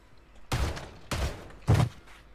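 Three heavy, booming shots in Warzone, evenly spaced about half a second apart, each loud and close with a short decaying tail over a quiet background.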